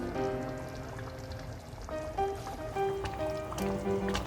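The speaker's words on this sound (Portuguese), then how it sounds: "Na sequência, incorporo o creme de leite," Cream being poured and stirred into a rosé pasta sauce with calabresa sausage and capers, a steady, close wet pouring and bubbling wash that runs unbroken under faint background tones.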